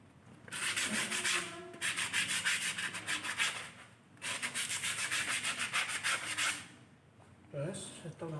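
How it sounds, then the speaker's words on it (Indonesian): Sandpaper rubbing hard across front disc brake pads in a brake service, two long runs of rapid, rasping back-and-forth strokes, close and loud, separated by brief gaps. "Selanjutnya adalah kita mengamplas kampas rem cakram roda depan ya,"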